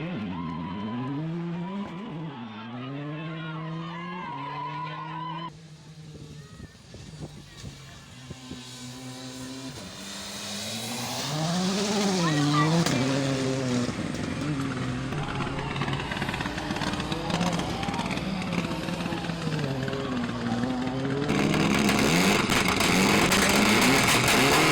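A Hyundai i20 Rally2 rally car racing on a wet stage, its engine revving hard and rising and falling through rapid gear changes. It grows louder and is joined by broadband spray and wind noise.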